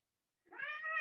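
A house cat meows once, a drawn-out, rising call that starts partway in after silence and is heard close and clear, with no talking.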